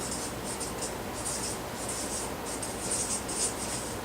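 A pen writing by hand on paper, a steady close scratching in short bursts with brief pauses between strokes, no talk over it.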